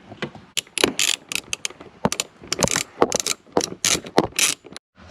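A ratchet screwdriver works a screw loose from the dash of a C5 Corvette during a passenger blend door actuator replacement, with close, rapid clicking bursts in uneven repeated runs and short pauses between turns.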